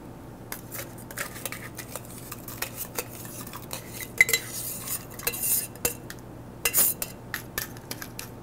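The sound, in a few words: stirring a bourbon cocktail and adding crushed ice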